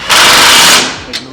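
Power tool, likely an impact driver, tightening 18 mm bolts on a Polaris RZR Pro XP rear axle hub; one loud sustained burst of rattling whir, then a brief second short hit near the end.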